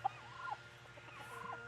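A turkey gobbles near a turkey and guinea shelter on a homestead, with a couple of short, moderately distant gobbling bursts over quiet outdoor background.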